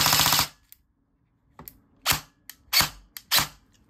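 An airsoft rifle fires on full auto, starting with a rapid buzzing burst, then a few separate cracks and clicks in quick succession, loud and close.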